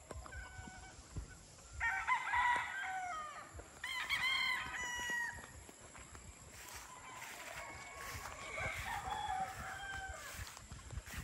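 A Boston Roundhead gamefowl cross rooster, about five and a half months old, crows several times in a row, each call clear and fairly close, with other fowl clucking and calling faintly around it.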